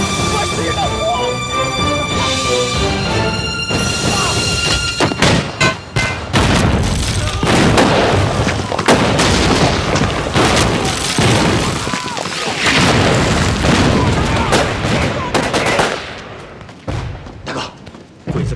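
A heavy bombardment in a Chinese anti-Japanese war drama brings repeated loud booming explosions and bursts of gunfire, with shouting voices over and between the blasts.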